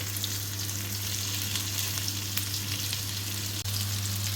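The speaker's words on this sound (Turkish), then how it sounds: "köftelerimizin bir tarafı kızardıktan sonra öbür tarafını çeviriyoruz" Meatballs (köfte) fry in a pan with a constant crackling sizzle and a steady low hum behind it, with a single soft clack near the end and no voices.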